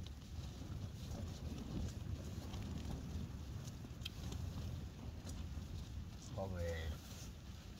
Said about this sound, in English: I'm thinking the wind's kind of almost coming in through the side.